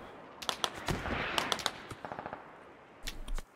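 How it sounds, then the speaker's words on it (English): Bursts of gunfire in the tactical shooter SquadOps, a cluster of sharp close shots then a scattered run of quicker reports and a final loud volley, over a steady background rumble. "we're getting shot from the northeast"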